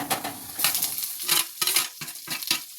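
Onions go into a frying pan already holding urad dal and garlic for a drumstick and brinjal poriyal, with a run of close, bright clattering scrapes and rattles of a spoon and ingredients against the pan.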